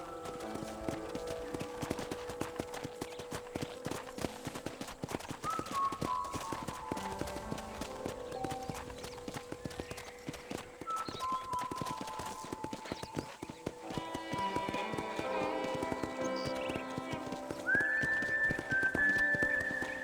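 Rhythmic clip-clop of horse hooves at a steady walking pace in the video game Red Dead Redemption, with a brief whistle-like tone near the end.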